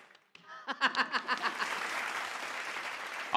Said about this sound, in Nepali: ए ताली बजाइ